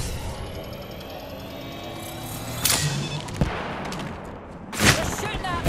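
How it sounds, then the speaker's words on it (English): Enemy gunfire in Apex Legends, quick cracking bursts of automatic shots at mid distance with a couple of sharper nearby hits, over a steady game ambience. "Shots fired, and they're hitting me."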